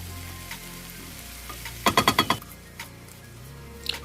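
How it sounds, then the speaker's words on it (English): Shrimp frying in a pan, a soft steady sizzle broken by a quick burst of sharp clattering taps near the middle and a few scattered clicks. "Now I'm adding the shrimps in there."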